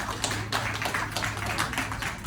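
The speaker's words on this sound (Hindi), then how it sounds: "हम सब एक जोरदार तालियों के साथ आपस में हम एक खुशी को सेलिब्रेट करें।" Sustained applause from an audience at a café event celebrating a women's empowerment initiative, a dense steady patter of many hands clapping throughout without a break.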